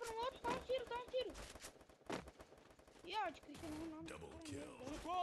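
Gunfire in the Free Fire battle royale mobile game, several quick shots in bursts mixed with game effects, heard under excited live commentary from a player talking throughout.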